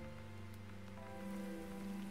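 Rain in the video game Starbound, a soft continuous patter beneath steady low game tones and hum, faint and even throughout with no speech.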